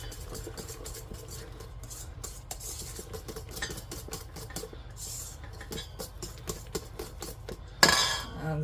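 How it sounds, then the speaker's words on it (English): Soap-making mousse being stirred in a container: a steady run of light clinks and scrapes from a utensil against the vessel, close and quiet, ending with a sharper knock. "I'm going to give it a stir."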